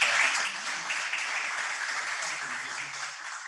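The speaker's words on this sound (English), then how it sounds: "round of applause for him" Applause from a small group at a Rotary club meeting, a soft, even patter of clapping that starts a little stronger and fades slightly, heard at some distance with faint murmurs.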